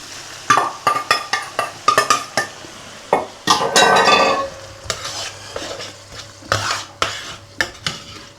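Chopped tomatoes sizzle in a paella pan while a utensil scrapes and stirs in quick, irregular strokes, with a louder burst of frying in the middle and clinks of metal close by.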